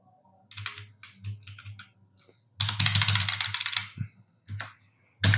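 Someone types HTML code on a computer keyboard, with close, crisp key clicks in short bursts and one rapid, dense run of keystrokes in the middle.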